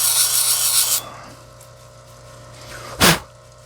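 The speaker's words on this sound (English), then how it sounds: "600 grit wheel" Spiderweb calcite arrowhead pressed against a 600 grit grinding wheel, giving a steady broadband rasping grind for about a second that cuts off, then quiet hum and one brief loud scraping burst near the end.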